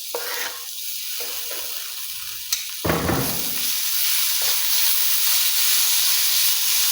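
Tomatoes dropped into a hot frying pan with onion and ginger garlic paste: a sudden loud sizzle after a brief clatter, settling into a steady hissing fry that continues to the end.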